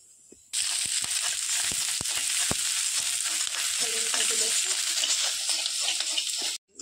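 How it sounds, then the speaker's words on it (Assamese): Onions fry in a hot kadai, a loud, steady sizzle that starts abruptly and carries on with scattered crackles and pops close by, then cuts off sharply at the end. "এতিয়া কেৰাহীটো পাতি দিছোঁ পিঁয়াজখিনি ভাজাৰ কাৰণে।"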